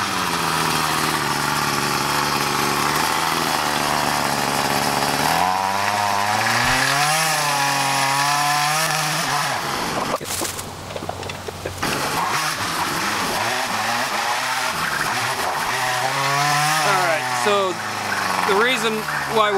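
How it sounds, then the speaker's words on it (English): A gas-powered garden tiller engine churns through soil for ground preparation, a loud close buzzing drone that rises and falls in pitch as it labors, briefly sags and nearly stalls, then revs back up. "we're tilling the ground and the tiller keeps dying"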